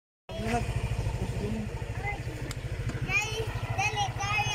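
Motorcycle engine running close by with a steady pulsing low throb throughout, while people talk over it.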